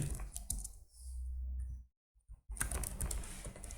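Python code being typed on a computer keyboard, close up, as bursts of quick clicking keystrokes broken by a low hum and a short silent pause.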